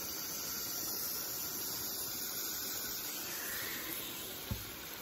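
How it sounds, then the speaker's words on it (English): Steady, soft hissing and crackling of steak frying in a hot pan, with one brief knock near the end. "Hear that sizzle."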